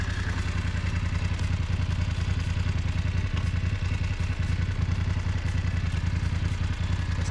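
A BMW F 900 GS Enduro motorcycle pulls away in Enduro Pro mode, its engine running loud and close with a steady mid-pitched drone and a mechanical clatter, with no talking.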